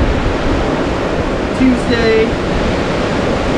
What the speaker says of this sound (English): Pretty windy out here, but fishable. The waves aren't too big.